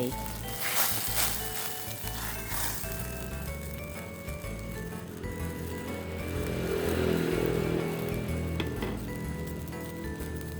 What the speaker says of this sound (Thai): น้ำเดือดละค่ะเฮามาเอาหมูที่เฮาเกียมไว้นะคะลงไป